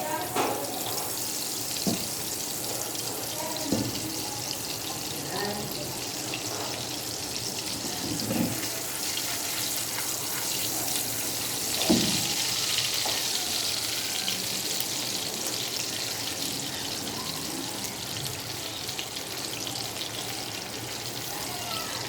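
Gola kababs fry in oil with a constant soft sizzle and occasional crackles and pops, close and steady throughout, with no talking.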